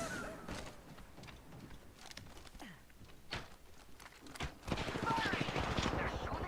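Enemy gunfire in the video game New World, rapid cracking shots in bursts that grow louder and denser toward the end, with a voice talking over part of it.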